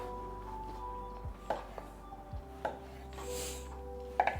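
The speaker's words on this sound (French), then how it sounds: "Ok, les champignons, je vais juste les couper en 4" A knife quarters mushrooms on a board, a few soft separate chops and scrapes spaced out over a quiet kitchen background, with a steady low hum underneath.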